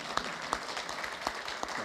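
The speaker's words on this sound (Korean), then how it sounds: "박수 한번 쳐주세요." Applause at a lecture colloquium, a brief stretch of scattered hand claps with a few sharp individual claps standing out over a light, moderately distant crowd.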